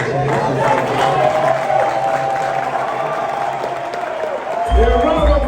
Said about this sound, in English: round of applause for this guy